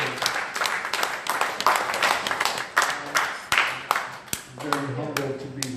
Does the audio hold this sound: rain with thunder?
no